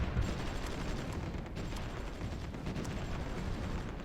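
Scattered gunfire of a distant skirmish in the strategy game Supreme Ruler Ultimate, a steady crackle of faint shots and rumble running unbroken underneath.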